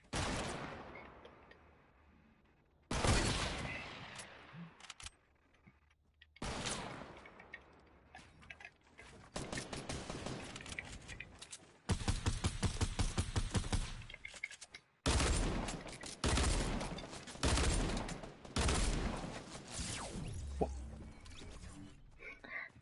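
Fortnite video game gunfire in repeated bursts of sharp rapid shots separated by brief pauses, loud and close throughout.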